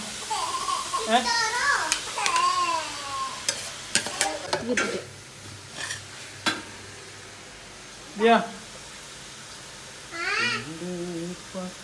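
Tomatoes and green chillies sizzle and get stirred in a frying pan, with scraping sounds, while a voice and other talk come and go nearby.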